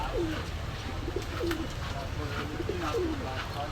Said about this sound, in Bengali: খুব সুন্দর কোয়ালিটির কবুতর